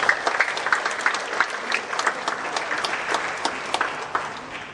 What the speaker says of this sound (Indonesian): Tepuk tangan dulu untuk Kejaksaan ini.